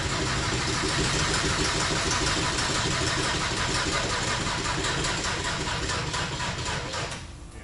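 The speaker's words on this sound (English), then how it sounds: "This is what it sounds like when you're trying to start it with a flat battery." The Audi Raptor prototype's engine cranks on a flat battery with the throttle at idle, a rapid, labored, rhythmic churning that stays loud and up close before dying away at the end.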